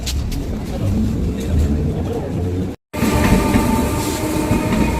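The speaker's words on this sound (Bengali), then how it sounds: "লাইফের প্রথম ট্রেন চললাম" A train runs with steady loud rumble and rhythmic track clatter, heard from on board, broken briefly by a moment of silence before the noise resumes.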